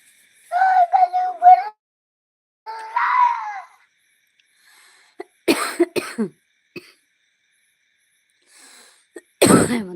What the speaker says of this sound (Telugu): దగ్గు స్టార్ట్ అయిందండి